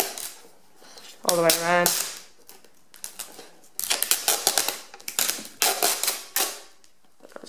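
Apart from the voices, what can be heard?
peeling sellotape off a GoPro Hero 3 box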